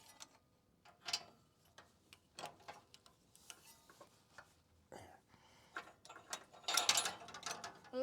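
A ratchet clicks in short, quiet bursts while an O2 sensor with a crush washer is tightened on a 2008 Honda Pilot, the ticking run broken by brief pauses and small knocks close by.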